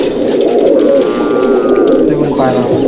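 A pair of pigeons, a male and a female of an old home breed, coo loudly and continuously at a loft in Halisahar, with people talking close by over the birds.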